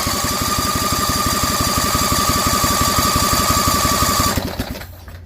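A Vanguard 16 HP lawn tractor engine running fast and rhythmic on push-button start, a loud, steady mechanical chug with a high whine that cuts out abruptly near the end.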